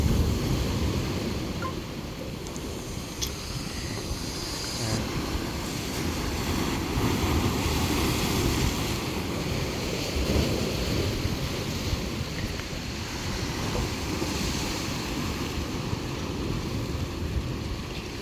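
Large ocean waves crash onto the shore in a continuous, loud rumbling roar, with gusts of wind buffeting the microphone and no talking.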